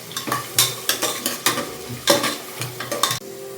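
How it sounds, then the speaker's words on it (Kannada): Onions frying in oil in a pan for a tempering, with a sizzle under a rhythmic series of sharp spoon scrapes and clinks as they are stirred, close and fairly loud. "ಈರುಳ್ಳಿ ಸ್ವಲ್ಪ ಫ್ರೈ ಮಾಡ್ಕೊಳ್ಳಿ ಈರುಳ್ಳಿನ ಈರುಳ್ಳಿ ಚೆನ್ನಾಗಿ ಫ್ರೈ ಆದಷ್ಟು ಟೇಸ್ಟು ಚೆನ್ನಾಗಿರುತ್ತೆ"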